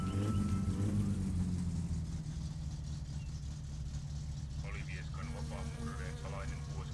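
A car engine idles in the driving game My Summer Car with a low, steady rumble throughout, while a person talks over it.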